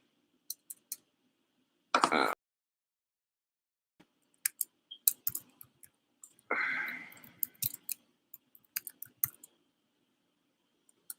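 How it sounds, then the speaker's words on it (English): Arrow keys tapped on a computer keyboard while paging back through old terminal commands: scattered light clicks, close and quiet, with two short louder rattling bursts between them. "I'm just doing an up arrow on my keyboard to find on my old commands, my terminal commands."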